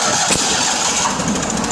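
The small engine of a John Deere mower cranks and catches, a loud continuous mid-pitched rumble filling the whole short stretch with no talk.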